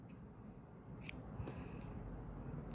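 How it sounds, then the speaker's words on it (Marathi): Scissors snip crochet yarn after a knot is tied, several quick, soft, close clicks spaced over a couple of seconds against a quiet room. "दोरा आता कापून घेऊ हा गाठ मारून"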